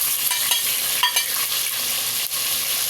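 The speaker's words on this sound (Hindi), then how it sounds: "अब इसमें हम डालेंगे टमाटर।" Tomatoes drop into a pan of browned onions and get stirred, a steady close sizzle with scraping spoon strokes running throughout.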